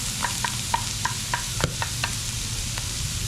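Onion and garlic sautéing in a pan, a steady sizzle with a series of sharp spatula clinks and scrapes against the metal at an uneven rhythm, close and clear with no talking.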